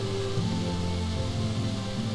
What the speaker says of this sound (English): Even in the rain, my mighty torch lights my way.